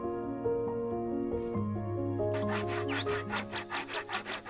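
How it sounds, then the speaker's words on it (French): An oak block is hand-sawn to shape a handle for an old German cleaver, the blade first lowering through quieter tonal strokes, then settling into loud, steady back-and-forth rasping strokes near the microphone. "nous allons fabriquer un manche à partir de ce morceau de bois de chêne"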